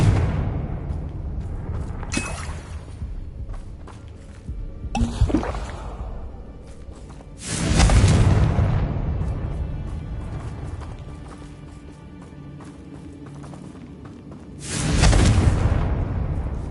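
Confringo explosive spell blasts in the video game Hogwarts Legacy: four loud, booming bursts at irregular intervals, each rising sharply then rumbling away over quieter battle noise.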